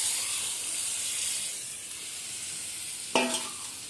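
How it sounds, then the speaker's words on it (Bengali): Coconut milk poured into a spiced curry frying in a pan: a steady close sizzle and hiss, then a sudden louder crackling burst as the liquid hits the hot masala near the end. "দেখুন নারকেলের দুধটা দিয়ে দিচ্ছি।"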